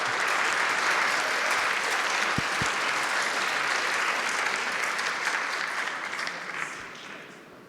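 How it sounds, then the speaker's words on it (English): An audience at the EMYA2025 annual conference applauds the panelists steadily for several seconds, the clapping full and sustained before gradually tapering off near the end. "Please applause."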